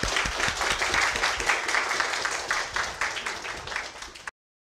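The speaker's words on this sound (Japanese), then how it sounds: "皆さんにこのお三人に拍手をお願いします。" An audience at a Ruby programming conference applauds three presenters, a dense, steady burst of clapping lasting about four seconds before cutting off abruptly.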